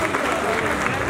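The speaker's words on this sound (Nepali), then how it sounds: "यदि मनपर्छ भने ताली बजाइदिनुहोस् प्लिज" An audience at a Nepali music award ceremony applauds in a steady, dense wash of clapping, moderately loud and continuous throughout.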